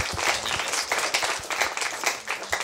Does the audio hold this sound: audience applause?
yes